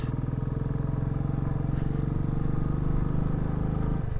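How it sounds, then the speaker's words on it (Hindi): A motorcycle labouring slowly up Shinkula Pass in first gear, its engine thumping in a steady low rapid pulse, loud and close for the whole stretch with no voices over it. "फर्स्ट गियर पे चढ़ रहा है धीरे धीरे"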